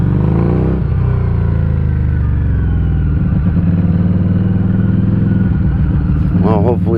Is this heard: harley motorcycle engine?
yes